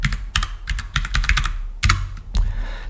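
Rapid typing on a computer keyboard while writing Python code, with close, crisp key clicks arriving in quick irregular bursts and short pauses between them.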